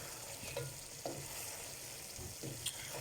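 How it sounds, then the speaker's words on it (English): Steady sizzling of chicken frying in tomato juice in a pan, with occasional soft stirring clicks and scrapes throughout, no talking. "cook cook the chicken in the tomato juice until it's completely dry out"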